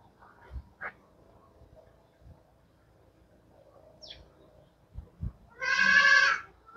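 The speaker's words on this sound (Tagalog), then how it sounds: "Hindi ginawin yung ating mga kambing." Goats bleat on a farm, with one loud, wavering bleat close by near the end after scattered quieter animal calls, a few thumps and a faint bird chirp over a quiet outdoor background.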